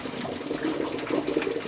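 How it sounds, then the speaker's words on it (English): Boiling hot water poured out of a cooking pot into a sink, a steady splashing gush running for a couple of seconds at close range, with no talking. "We're going to drain, oh God, drain out all the boiling hot water like this"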